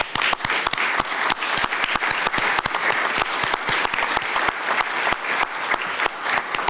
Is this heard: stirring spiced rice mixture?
no